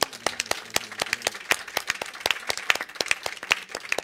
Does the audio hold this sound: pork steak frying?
no